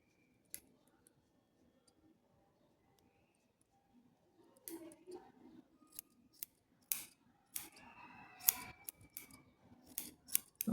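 Scissors snipping through yarn circles for a pompom, sparse at first then a run of close, crisp cuts and clicks, with no talking over them.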